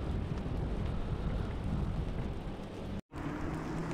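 A steady rain shower with thunder at a fishing spot in California, a soft continuous hiss of falling water with low rumbling underneath, heard quietly and without voices, briefly cutting out near the end.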